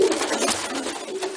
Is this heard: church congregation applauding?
no